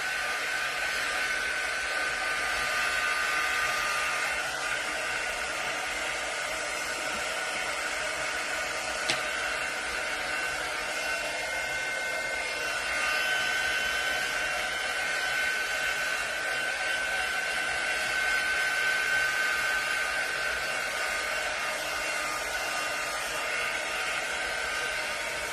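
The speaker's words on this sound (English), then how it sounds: "This heat tool uses focused air. It's warm, it's not really hot." Heat embossing tool blowing warm, focused air during a craft project, a steady close hiss with a faint whine that runs unbroken for the whole stretch, loud and alone with no talk.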